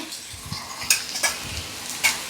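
Onions, tomato, and ginger-garlic paste sauté in a pan with a soft continuous sizzle, broken by a few sharp scraping clinks of a utensil stirring the mixture.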